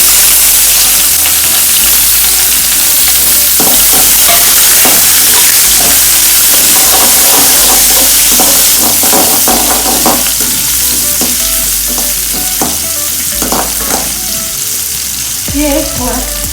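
Chopped onion frying in a pan with curry leaves and dried red chilies, a steady close sizzle with stirring scrapes and clatters throughout.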